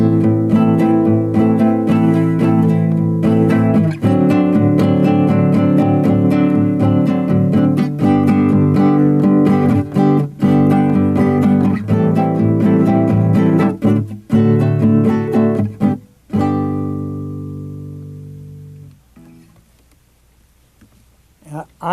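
Strummed guitar in a steady, syncopated repeating two-bar rhythm, grouped 3-3-2 in the first bar and 2-3-3 in the second, loud and continuous, then fading into a ringing decay near the end.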